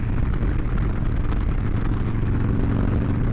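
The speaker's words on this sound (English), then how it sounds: "you can really hear the change in the pipe whenever the horsepower kicks in" Harley-Davidson FXLRS motorcycle exhaust heard from the rider's seat under acceleration, a steady loud rumble blended with heavy wind rush at highway speed, continuous and without speech.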